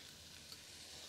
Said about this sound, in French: On va rajouter nos oignons.